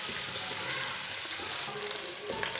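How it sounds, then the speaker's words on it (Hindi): Finely chopped onion fries steadily in a cup of oil in a pan, giving a continuous close hiss and crackle with faint stirring scrapes and no voices. "एक बारीक कटा हुआ प्याज डालेंगे। प्याज को हल्का सा ब्राउन कर लेंगे।"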